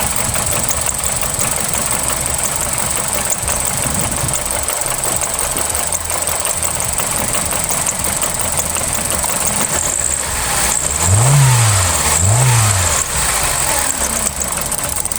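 A 2018 Hyundai Accent engine idling after a head gasket replacement, a loud steady rough drone with a misfiring, uneven character, heard up close with no talk. Near the end two brief rising revs swell above it.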